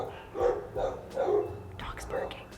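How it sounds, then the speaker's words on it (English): A dog barks outside as someone walks past, a few muffled barks in a steady rhythm, mid-distance, with soft voices murmuring underneath. "Dog's barking."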